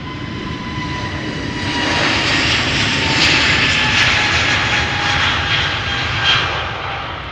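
Airbus neo jet airliner passing at Amsterdam airport, a broad steady engine roar with a faint whine that swells slightly midway and holds, heard alone and fairly loud.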